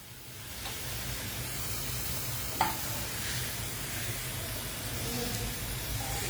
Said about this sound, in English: जैसे ही राई स्प्लटर हो जाएगा,